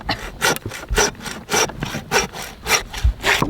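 A hand saw rasps back and forth through pig bone in steady, gritty strokes, about a dozen pulls, close and loud, outdoors during a homestead pig butchering.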